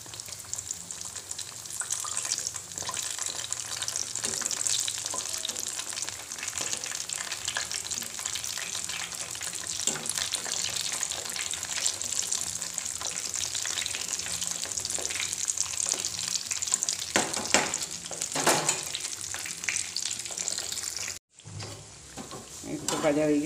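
Food sizzling and crackling steadily in hot oil in a home kitchen, a continuous bright frying hiss with occasional stirring clatter, close up and loud, ending with a brief pause.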